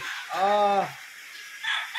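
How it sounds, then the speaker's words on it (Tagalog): A gray cross gamecock rooster held in hand gives one short, loud, harmonic squawk up close, followed by quieter background sound. "Ito pong manok na po ito na hawak ko ay para po kay Sir Yulito Gasis ng Higakit, Surigao del Norte."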